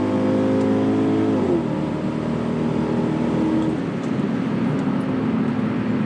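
An Infiniti Q45 under hard acceleration, the engine roaring loud and steady. Its tone shifts as it climbs through the gears, and strong road and wind rush fills the whole stretch.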